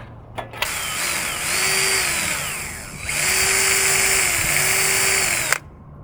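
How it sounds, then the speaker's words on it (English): A power drill whines loudly in two long bursts while drilling out a part during car wheel light installation, its pitch sagging and rising as the bit bites, with brief pauses and clicks between. "Of course, now this isn't gonna want to drill out."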